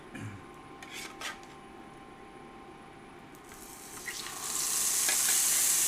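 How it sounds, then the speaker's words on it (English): Food sizzling in hot oil on an induction burner, a close crackling hiss that starts softly with a few scrapes and swells into a loud, steady sizzle toward the end. "There's the sizzle."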